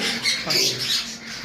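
Pet cockatiels and sun conures squawk harshly while fighting at a bird farm, a close, continuous run of shrill, overlapping calls that rise and fall in loudness.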